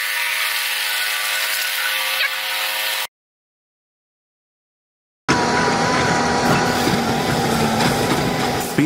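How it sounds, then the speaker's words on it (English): Heavy BNSF maintenance-of-way railroad tie replacement machinery grinds and whirs loudly, stops in a brief silent gap, then resumes with broad mechanical rumbling and clatter. "MOW Equipment, executing tie replacement operations."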